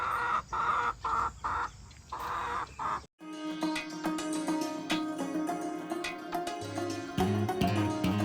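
Village hens clucking in short repeated bursts close by, then the scene switches to layered background bird calls with occasional crow-like caws and a low tonal hum.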